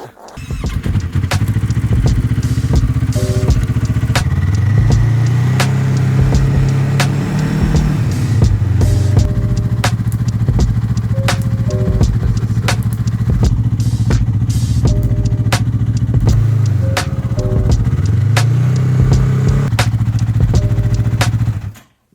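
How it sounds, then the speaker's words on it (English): A snowmobile engine running steadily on a night ride in Sweden at -15°F, a loud close droning motor whose pitch rises and falls with throttle changes, with rattling clatter throughout and no speech. "decided to go on a nighttime snowmobile ride"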